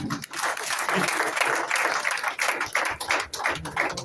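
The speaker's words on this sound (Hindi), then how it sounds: "इनके तालियां बजा दीजिए, इनको बहुत रटा होगा" Audience clapping at a company gathering, a dense steady patter of many hands that swells and dips in waves for several seconds, fairly close and without speech over it.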